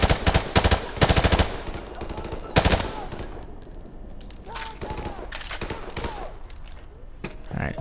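Rapid bursts of machine gun fire rattle loudly in Call of Duty Modern Warfare Remastered, with repeated automatic volleys and battle noise throughout, and no talking.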